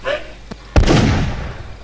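A sharp gunshot in the Rake horror video game, one loud bang with a decaying tail, preceded by a faint pop, while players talk.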